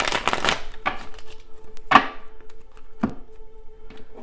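Tarot cards riffle and slap together during shuffling, a quick flurry of papery clatter at the start followed by a few separate sharp taps and flicks, close and alone with no talk.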